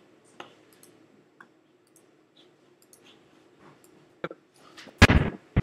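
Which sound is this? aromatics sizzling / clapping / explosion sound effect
explosion sound effect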